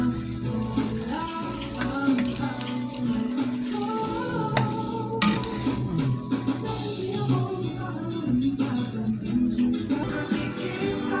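Star margarine melting and sizzling in a pan, a bright, steady crackle close by with a busy, tonal kitchen background and faint voices mixed in.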